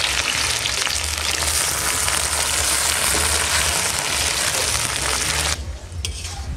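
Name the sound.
chopped onion, garlic and ginger paste frying in oil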